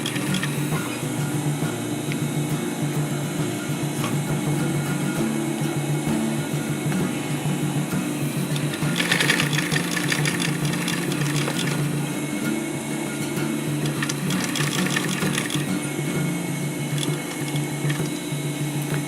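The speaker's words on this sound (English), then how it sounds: "Just take it slow and start sewing." Sewing machine stitching a canvas zipper pouch, its motor humming continuously and evenly throughout at close range, with brief bursts of faster, rattling needle action in the middle.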